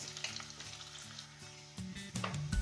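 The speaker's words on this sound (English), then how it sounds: "now on the same pan will add our garlic, some chili flakes" Garlic and chili flakes hitting hot oil in a pan for chilli mushroom Manchurian, a bright crackling sizzle that swells louder near the end, with soft clinks of utensils, close up and without talk.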